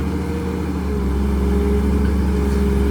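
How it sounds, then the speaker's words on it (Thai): A CAT 320D excavator's heavy diesel engine runs steadily with a low rumble, rising slightly as it revs gently, close by with no talking. "คนขับเขาเร่งเครื่องแค่นิดเดียวเอง"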